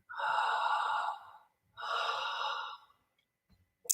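A person demonstrates difficult breathing with two long, heavy, rasping breaths, each over a second long and separated by a pause, close and loud against silence.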